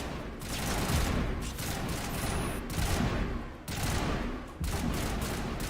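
Enemy gunfire in the video game Mass Effect 1, a dense, continuous fusillade of rapid shots with a few brief dips, loud and close, with no talk over it.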